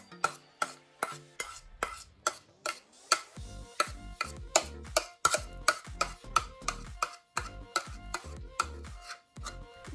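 Mixing soap and glycerin in a bowl makes a steady run of sharp, regular clicks and taps as the utensil strikes the sides, close and alone with no talk.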